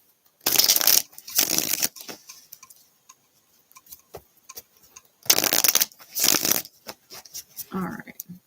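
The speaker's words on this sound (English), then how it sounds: "Just going to do a quick shuffle on these cards." Tarot cards are shuffled in several quick riffling bursts, crisp and close, with short pauses and small taps between them.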